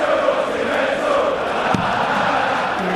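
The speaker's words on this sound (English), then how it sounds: "the crowd is just singing "Let's Go Bunting Mental," his theme tune" A darts crowd at a PDC Premier League match sings a player's theme tune en masse, a dense, steady roar of massed voices filling the arena throughout.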